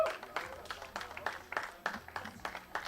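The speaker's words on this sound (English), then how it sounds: "Give them one big round of applause." Audience applause at a skeet shooting team gold medal ceremony in Madrid, Spain, with scattered rhythmic claps, moderately faint, and some speech underneath.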